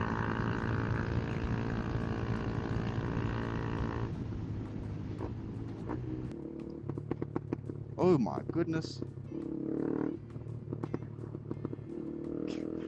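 A KTM Duke 390 motorcycle engine revs with a loud, steady, close-up drone for about four seconds, then settles into a lower idle with short bursts, while someone speaks excitedly over it.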